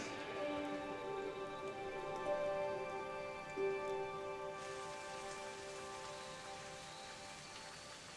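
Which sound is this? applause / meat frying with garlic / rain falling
rain falling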